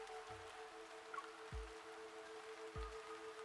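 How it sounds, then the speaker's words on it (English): Raindrops patter against a transparent vending machine screen on a rainy street at night in the game Love and Deepspace, three soft low drips falling about a second apart over a steady faint hum. "Raindrops pitter-patter against the transparent screen where product options blink brightly."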